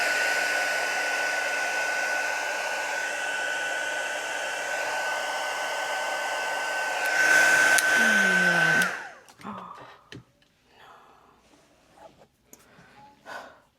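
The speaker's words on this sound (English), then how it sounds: "I could also use like a heat gun to kind of speed up the process" A heat gun blows hot air with a steady, loud whooshing drone for about nine seconds, then cuts off, leaving faint breathing and light handling noises.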